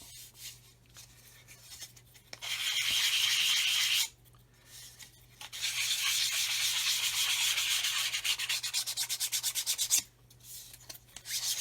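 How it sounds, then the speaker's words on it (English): Dry, raspy rubbing of a sanding stick over the plastic fuselage of a Roden 1/144 C-141B Starlifter model in steady back-and-forth strokes, with short pauses between passes and a faint low hum underneath. "I'm letting the sanding stick do the work"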